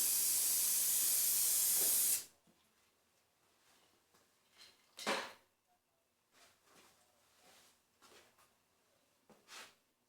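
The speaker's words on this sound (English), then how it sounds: "I'm spraying this on here pretty damn heavy." Aerosol spray can hissing loudly in one sustained two-second burst onto an acoustic panel for bass traps, followed by quieter handling clicks and short scuffs.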